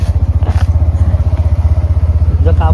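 A motorcycle rides along with a loud, close, regular engine throb that pulses steadily throughout, with brief voices and a bit of clatter over it.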